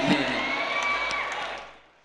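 Audience applause and scattered cheers at a mushaira poetry gathering, a dense continuous wash of clapping from a crowd that fades out toward the end.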